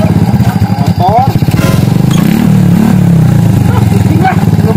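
Motorcycle engine nearby revs loudly in pulsing bursts, settling into a steady, throaty drone, while people talk over it.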